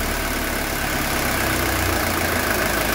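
A 1982 Mercedes 240D diesel engine idling after a throttle linkage adjustment, a steady, even broadband clatter and hum, close and continuous with no voices.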